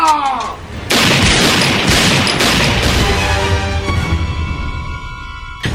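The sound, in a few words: gunshots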